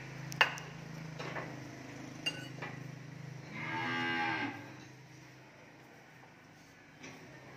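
A single cow moos once, a long low call near the middle, at a cattle farm with faint clinks and background sounds around it.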